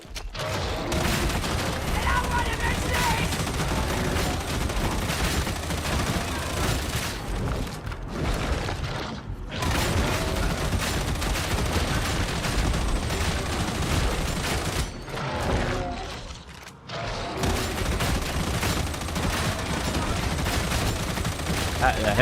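Hip-fired automatic gunfire from a video game rattles in dense, continuous bursts, broken by two short pauses, with a voice talking over the shooting.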